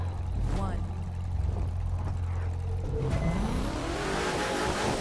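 Revving engine of a Koenigsegg in the racing game The Crew 2, loud and steady with a rising whine near the end as the tires heat, while someone talks over it.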